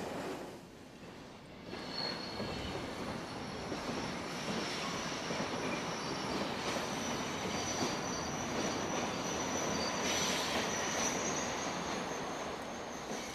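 A Belgian Class 27 electric locomotive hauling a train, heard as a steady, continuous roar of running rails and wheel noise, with a thin high whine above, holding even throughout.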